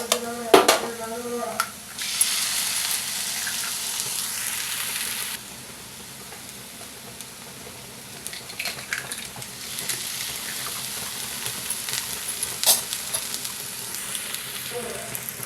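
Eggs poured into a pan with ivy gourd hit hot oil in a loud burst of sizzling that holds steady for a few seconds, then settles into a quieter fry with occasional clinks.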